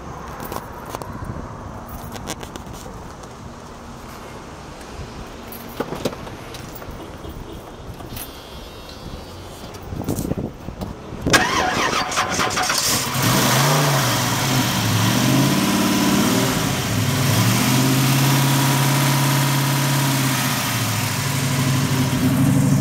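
Keys jingle and shuffle before the 468 V8 engine of a 1979 Malibu cranks and roars to life, then settles into a loud, lumpy idle.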